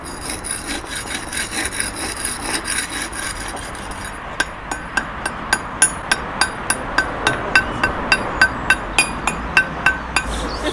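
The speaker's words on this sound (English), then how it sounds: "I clean them with a wire brush" Hammer and bolster chip mortar off reclaimed canal-wall bricks in steady, sharp metallic strikes, about two per second, after a stretch of rough scraping at the start.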